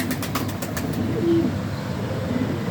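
A caged pigeon gives a soft, brief coo amid a steady background hum and light rustling.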